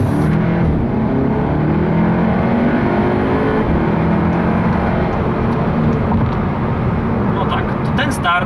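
A 2017 SEAT Leon Cupra ST 300 4Drive estate makes a kickdown launch, its engine roaring loudly and continuously from inside the cabin as it accelerates hard, with someone speaking over the noise.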